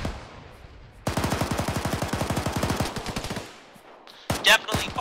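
A machine gun in a military shooter game fires one long rapid burst of about two dozen rounds, loud and close. A few more shots follow after a short pause, and a voice is heard briefly at the end.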